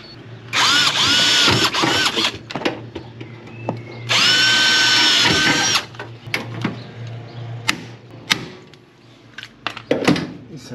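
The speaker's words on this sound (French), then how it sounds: "Là tout de suite, il y a juste deux rivets à mettre." Power riveting tool setting rivets on a Panzer model project, two loud sustained bursts of high whining drive, each a couple of seconds long, followed by scattered clicks and handling knocks over a low steady hum.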